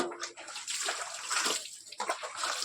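Tap water running at low pressure, a close, steady splashing hiss with slight surges that continues throughout with no talking.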